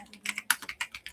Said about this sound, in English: Just observe that while I am typing